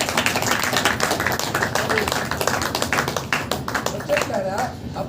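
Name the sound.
congregation clapping hands at a church meeting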